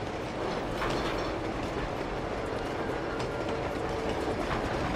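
A train rolls steadily through a tunnel in the video game Uncharted 2, with a dense, continuous rumble and faint clickety-clack of wheels, loud and close for the whole stretch.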